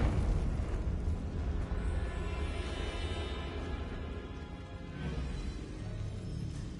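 The Confringo blasting spell in Hogwarts Legacy bursts into a loud, rumbling explosion, a dense roar that fills the whole stretch without easing off, with no talking.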